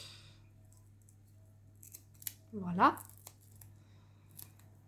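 Scissors make one short cutting pass through paper, trimming the edges into small squares for a vintage suitcase craft. A single close snip stands out, with a voice speaking briefly.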